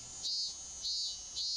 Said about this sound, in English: The cicadas were crying.